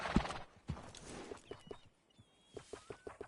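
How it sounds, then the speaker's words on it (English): A horse in the Red Dead Redemption 2 video game clops its hooves in faint, rhythmic steps, with a brief soft whinny-like sound and quiet gaps between the hoofbeats. "that's a good-looking horse now."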